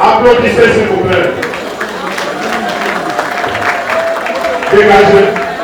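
Sustained applause fills the hall at a midwives' graduation and certificate ceremony, a dense wash of clapping running beneath steady talk and crowd murmur.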